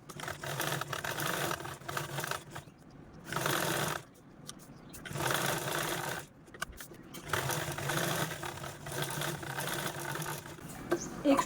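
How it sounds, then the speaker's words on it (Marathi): Sewing machine quilting fabric layers for an iron cover, running in several steady whirring bursts with short pauses between, close and fairly loud with no voices. "चला मी एक क्विल्टिंग करून घेते आणि एक दोन तीन चारही पीस आपण क्विल्टिंग करून घेऊया"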